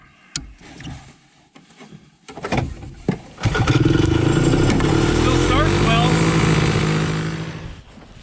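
A snowmobile engine labours in brutal winter conditions, sputtering and catching before settling into a loud, rough, sustained drone that wavers unsteadily for several seconds and then fades out.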